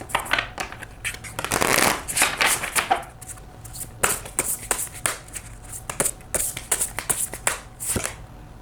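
Tarot cards are shuffled by hand in repeated quick bursts, a crisp riffling flutter with short pauses between rounds, close and fairly loud, with no talking.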